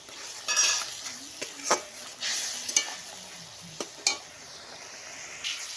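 Spice paste for a pabda fish curry sautés in a pan, with a soft steady sizzle broken by several sharp clinks and scrapes of a spoon against the pot, close and fairly quiet, no voices.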